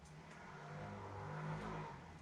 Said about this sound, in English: Motorbikes.